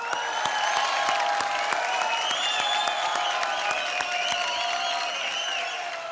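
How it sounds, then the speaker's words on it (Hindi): Studio audience applause on a Hindi television comedy show, a dense, steady wash of clapping that carries loud and unbroken from start to finish, with tonal music or a whistle riding above it. "जोरदार तालियां"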